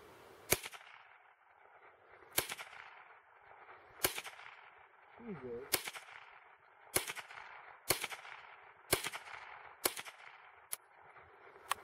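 A Remington Nylon 66 rifle fires at pine cones outdoors, with about nine sharp, separate shots a second or so apart that ring out with a short decay over quiet background.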